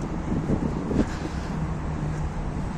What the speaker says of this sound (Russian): Все равно теплый воздух оттуда идет с этой решетки.